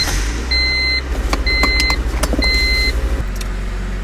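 Interior of a 1998 Honda Civic on a test drive, a loud low engine and road rumble with three repeated electronic beep chimes in the cabin, no speech.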